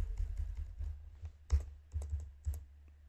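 Quick typing on a computer keyboard while writing Entity Framework Core code, a close, uneven run of light key clicks with a few louder taps, alone without speech.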